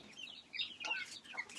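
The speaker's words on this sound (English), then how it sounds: "Them chickens want to run out." Backyard chickens in Indonesia give repeated soft clucks and chirpy calls, a few hens close by, rising in two busier bursts over a quiet background.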